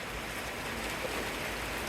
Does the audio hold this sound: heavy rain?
yes